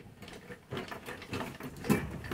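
Sewing machine stitching lace onto the neckline of a kurti, a steady mechanical whir with rapid needle patter running continuously and moderately close throughout, with no voices.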